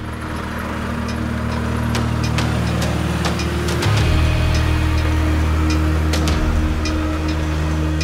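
A Volvo FH truck's diesel engine runs at a steady low rumble close by, holding even through the clip with a brief shift in pitch midway.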